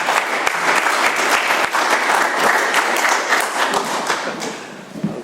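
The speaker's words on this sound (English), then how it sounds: "Let's give a big round of applause for Nick." Audience applause for the chairperson at an AA multi-speaker meeting, with a steady wash of clapping hands and a few sharp louder claps, holding strong before thinning slightly toward the end.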